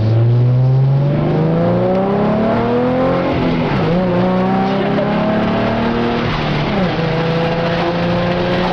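A loud Ford Mustang V6 with an MRT Interceptor axle-back exhaust revs up steadily, its pitch climbing, dropping briefly at a couple of gear shifts, then climbing again, with a raspy exhaust tone.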